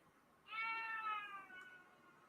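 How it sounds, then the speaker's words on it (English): A cat lets out a single drawn-out, whiny meow lasting about a second and a half, rising sharply then trailing off, fairly faint against a quiet room background. "You got the whiniest fucking meow, Eric."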